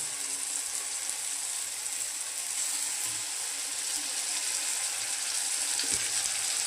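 Spice paste sizzles in a pan while being sautéed for a shrimp and bottle gourd curry: a continuous loud frying hiss with faint scraping stir sounds underneath, close and steady throughout.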